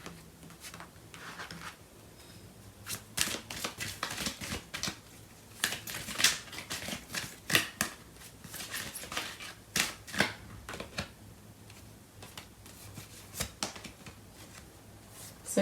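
Tarot cards being shuffled and drawn during a love reading, heard as close, quiet bursts of rapid riffling and flicking clicks in uneven clusters, with no talking.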